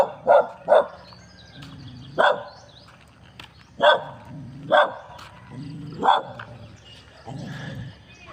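A dog barks in a series of sharp, separate barks with short pauses between them, fairly close, with a few softer yips mixed in.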